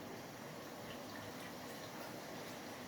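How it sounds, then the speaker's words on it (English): Water is poured into a pot of simmering Bengali Sylheti mutton chop curry, a faint, steady trickling wash heard close, with no talking. "Yeah, add a bit more water."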